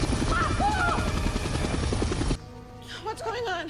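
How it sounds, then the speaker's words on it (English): A helicopter flies in a scene from the TV series Marvel's Inhumans, its loud rhythmic rotor chop filling the first two seconds before cutting to quieter background with voices talking. "We are gonna follow that helicopter."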